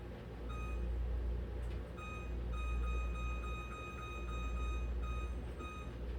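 Kitchen oven timer set while scones bake, a short beep followed by a long, steady electronic tone that holds for several seconds before cutting off, over a low background hum.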